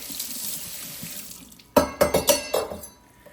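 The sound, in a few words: rinsing a knife under running tap water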